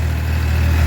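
Tractor engine idling with a steady low rumble and constant vibration, loud and close, with no voices over it.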